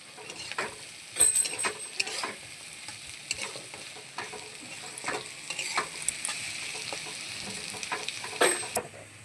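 Onion and potato frying together in a pan, a soft continuous sizzle broken by repeated scraping and clattering as a spatula stirs the pieces, fairly quiet and close, with no talk.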